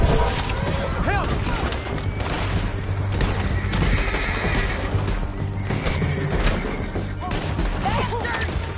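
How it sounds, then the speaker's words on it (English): Horses whinny several times amid a busy action scene, with gunfire bursts, hoofbeats and shouting voices around them. "Horses! There's men everywhere."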